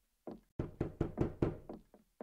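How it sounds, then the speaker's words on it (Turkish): Knocking on a door in a Roblox horror game, a run of about eight hollow knocks, the first two spaced apart and the rest in quick succession, fading slightly at the end, with no talk over them. "Kapı vuruluyor."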